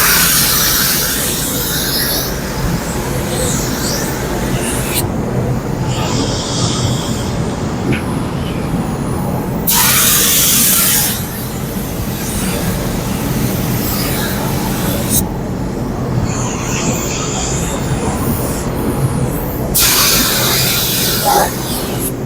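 Long bursts of loud hissing spray from a Harbor Freight Black Widow 2.0 spray gun laying clear coat on car paint, repeating in passes about five seconds long with brief quieter gaps between them.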